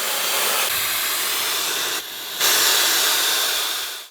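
Compressed air vents from the release valve of a 6-gallon air compressor tank as a continuous loud hiss, briefly surging midway and then tapering off as the tank drains.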